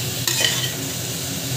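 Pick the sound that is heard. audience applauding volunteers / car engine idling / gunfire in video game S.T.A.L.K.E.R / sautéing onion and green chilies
sautéing onion and green chilies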